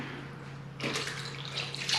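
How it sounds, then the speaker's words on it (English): Wickers marinade poured over rabbit for grilling, a soft splashing pour that starts partway through and continues close by over a steady low hum. "I'm just gonna pour this, half in this one"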